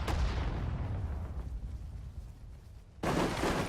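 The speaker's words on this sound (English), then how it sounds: "There's the artillery." Artillery fire in Sudden Strike 4 at the Battle of Sedan: a heavy booming blast that rumbles and decays, followed by a second loud shot near the end.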